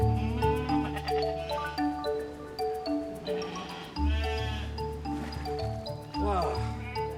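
Sheep bleating repeatedly on a recreated Tudor monastery farm, several loud wavering bleats close by, with people talking in between.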